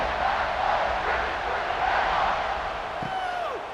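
Broad, steady roar of a stadium crowd before kickoff in the College Football 26 video game, a sustained wash of cheering at even loudness with no voices standing out.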